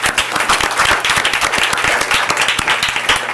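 An audience at a school district board meeting applauds a young student, with brisk, close, continuous clapping from many hands and a fairly even rhythm throughout.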